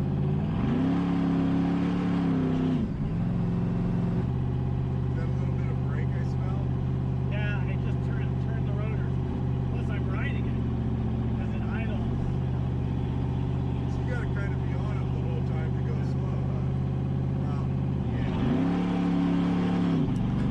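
A car engine revs and accelerates while the driver keeps riding the brakes, giving a sustained droning roar that climbs in pitch at the start and again near the end. Voices talk over it throughout.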